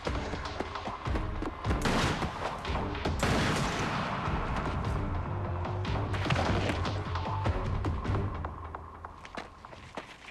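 A dense burst of gunfire from a TV drama, with overlapping shots and crashes mixed into a loud, busy soundscape of movement and tension.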